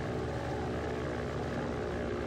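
A WW2-era propeller aircraft in the online game WW2 Online drones steadily and loudly throughout, a continuous engine roar with no talk.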